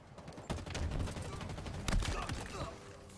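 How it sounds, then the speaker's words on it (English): Rapid machine gun fire from the Warthog turret in a Halo Infinite Big Team Battle multiplayer match, a dense sustained burst of shots with louder hits near the start and again partway through, over a busy battle mix. "Machine gun on the warhub is fucking garbage."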